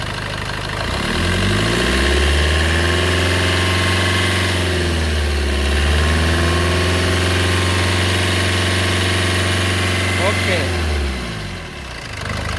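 A Maruti Suzuki Brezza diesel engine idles steadily with a low rumbling drone, its pitch dipping and rising briefly midway as the accelerator is worked, then winding down near the end.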